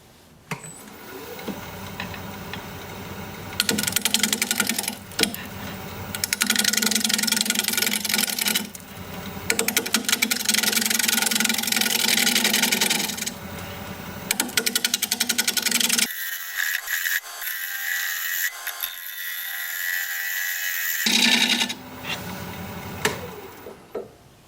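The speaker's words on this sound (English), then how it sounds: "We're going to be turning at 660 RPM, 5/8 inch bowl gouge," A wood lathe spins a plum wood bowl at 660 RPM while a 5/8 inch bowl gouge cuts in rough, scraping bursts. The cuts come and go, with a quieter gap near the end as the tool lifts off.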